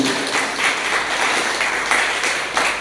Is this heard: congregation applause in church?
yes